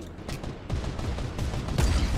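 Rapid bursts of gunfire in a battle-royale video game, several sharp cracks in quick succession, fairly close and loud, with a brief burst near the end.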